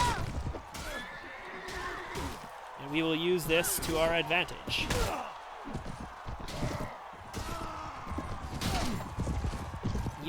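A horse whinnies and hooves clop during a tournament in Mount & Blade Warband with the Prophesy of Pendor mod. The neigh rises clearly mid-clip over steady battle noise, with someone talking throughout.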